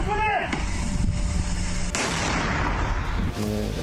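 A loud, deep boom of mortar fire, from 120 mm or 82 mm mortars, rolls out in a long rumbling blast, with voices speaking briefly before and after.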